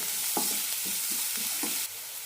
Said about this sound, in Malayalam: സവാള ചെറുതായി ചോന്ന് കിട്ടണം അതുവരെ വഴറ്റാം